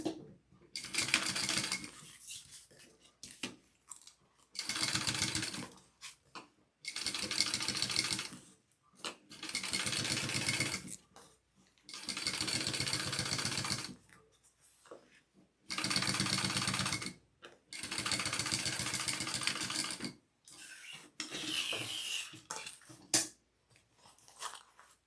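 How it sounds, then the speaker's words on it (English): Sewing machine top stitching along the bottom of a zipper pocket: repeated bursts of rapid mechanical stitching, each several seconds long, separated by short pauses, close and fairly loud, with no talk. "You are going to top stitch along the bottom"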